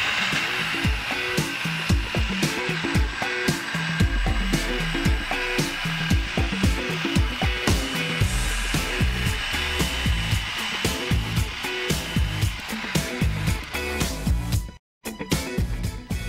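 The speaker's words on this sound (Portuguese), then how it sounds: "E vamos liquidificar." A blender whirs loudly as it mixes herb bread batter with olive oil, giving a sustained, close motor roar with churning, thumping pulses for about fifteen seconds before a brief cut-off and restart, with no talking.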